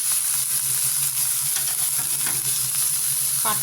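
Chopped tomatoes hitting a hot pan for egg curry give a loud, continuous close-up sizzle that hisses steadily throughout, with a quick scrape of stirring at the very end.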